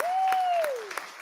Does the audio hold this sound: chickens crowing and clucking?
no